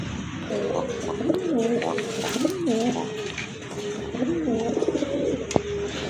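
Several domestic and fancy pigeons held for sale coo close by, their soft, warbling calls repeating in rolling phrases over a steady background hum.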